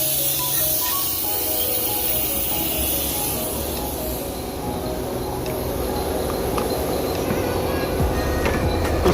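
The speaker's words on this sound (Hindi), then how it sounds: "हवा वाली मशीन, जिसमें हम पहले ऑन करके आपको बताते हैं।" A continuous hissing, rushing air pump roars close by, with a droning hum underneath: the vacuum machine used for a car's R134a AC gas recharge, running steadily throughout.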